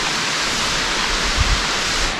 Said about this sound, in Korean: 마치 포항성 폭포처럼